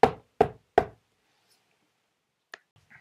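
Red urushi lacquer being pounded by hand, three sharp, evenly spaced knocks close up, then silence broken by a faint tap and a soft scrape.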